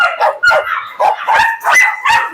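A Rottweiler puppy barks repeatedly at close range, six or so sharp yips and barks in quick succession with short gaps between them.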